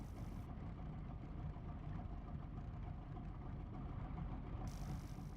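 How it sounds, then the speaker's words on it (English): A steady engine drone plays in the DCS flight simulator while the player's own engine is off. It is a faint, continuous low rumble throughout with no talk. "I'm hearing an engine running"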